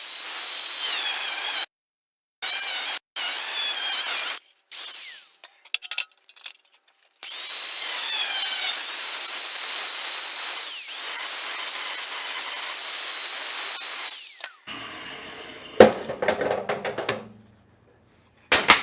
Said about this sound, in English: Got the die grinder. Let's make some noise.